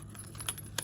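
Small bells on a handmade junk journal tag give a few quiet, close metallic jingles, with a brighter tinkle near the end.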